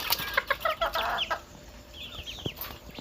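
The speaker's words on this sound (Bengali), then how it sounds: "এগুলো হচ্ছে যে মুরগি" Chickens in a small tin-shed backyard farm cluck and cackle close by in quick, uneven bursts. A higher cackling call rises toward the end, with faint clatter in between and no talking.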